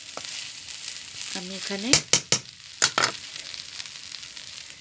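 A spoon works through a hilsa fish pilaf mixture with fried onions, giving a soft background sizzle and a few sharp clinks and scrapes grouped near the middle, with a brief spoken phrase early on.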